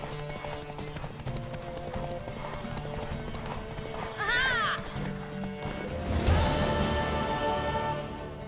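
Horse hooves clip-clop at a gallop with a sharp neigh midway, from the video game The Witcher 3, under a busy game soundscape with music and voices.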